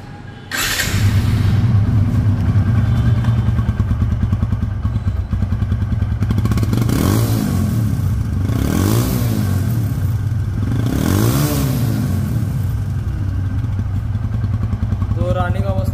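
A 2019 TVS Apache RTR 160 motorcycle engine idles and runs steadily close by, with a continuous low throb and a couple of swelling revs midway, under someone talking throughout.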